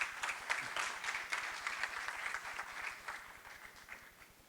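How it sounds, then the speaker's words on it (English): A conference audience at the Baltic Study Centre breaks into sustained applause, dense steady clapping from many hands filling the room at moderate volume for the whole stretch with no voices over it. "big round of applause for Tālis."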